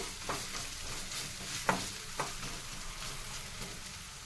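Freshly pounded ginger and shallot paste fries on a low flame, a soft continuous sizzle broken by a few sharp scraping stirs.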